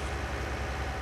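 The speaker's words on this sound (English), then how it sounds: "Tractor's revving really hard though." A tractor engine revs hard in Farming Simulator 19, giving a dense, constant, low mechanical drone throughout that is loud and steady with no breaks.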